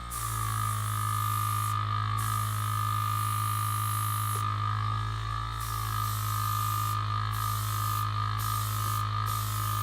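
A cheap $35 airbrush sprays paint onto a miniature, giving a steady close hiss with a constant hum beneath, broken by several short pauses as the trigger is released.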